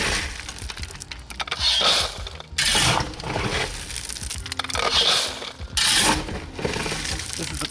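A machine dumps crushed stone into a French drain trench, and the gravel comes down in several loud, rushing pours separated by short pauses, with mechanical clanking between them.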